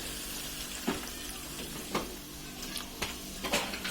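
Water goes into a pan of frying cauliflower and potato curry, producing a soft sizzling bed broken by several sharp splashing bursts at irregular intervals, fairly close and moderate in level.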